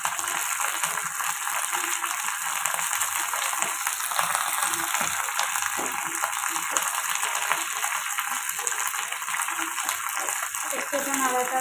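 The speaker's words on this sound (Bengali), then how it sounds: "তো এই দেখো একটু কারি পাতা তেলের মধ্যে দিলাম" Curry leaves dropped into hot oil for a Telugu-style arhar dal, giving a continuous bright sizzle and crackle that holds steady throughout, close and fairly loud.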